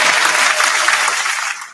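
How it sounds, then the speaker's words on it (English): A burst of dense, loud applause with many overlapping claps, steady for over a second before cutting off abruptly at the end. "I'm gonna clap for you, girl."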